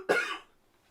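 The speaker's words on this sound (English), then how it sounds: "I've got a cough again" One short, sharp cough, close and clear, quickly trailing into silence.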